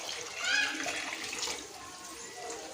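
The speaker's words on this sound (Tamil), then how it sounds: "இப்போ நம்ம இதில் தண்ணி சேர்த்துக்கலாம்" Water poured into a pot of vegetables for vegetable biryani in a home kitchen, a steady close splashing stream that swells briefly, with a voice faintly in the background.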